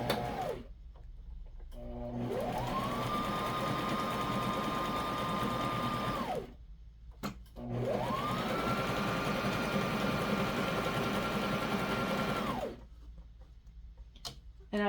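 A sewing machine zigzag-stitches elastic onto diaper cover fabric in two long, steady whirring runs of several seconds each, with a short pause between them.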